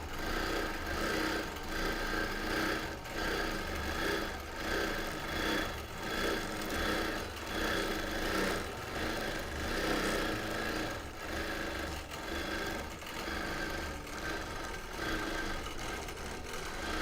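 Sewing machine quilting across a linen blend quilt, a continuous busy mechanical rattle and hum with a pulsing rhythm, close and steady throughout with no voices.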